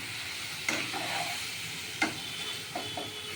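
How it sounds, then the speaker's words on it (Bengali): Tiger prawns frying in oil with chili powder for a malai curry, a quiet, even sizzle with a few soft stirring scrapes spaced out across the stretch and no voices. "এই দিয়ে আমি মাছটাকে একটু ভাজা ভাজা করব"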